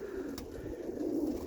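Roller pigeons in a kit, mostly cock birds, cooing in a low continuous rolling drone, close and moderately loud, with a faint click partway through.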